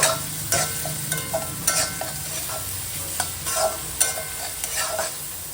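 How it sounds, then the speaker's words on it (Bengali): Crushed onion with ginger-garlic paste frying in a pan, a constant hiss of oil broken by regular scraping spatula strokes and light metallic taps, close and moderately loud. "এগুলো ভালোভাবে নাড়িয়ে চাড়িয়ে ভাজা করে নেব"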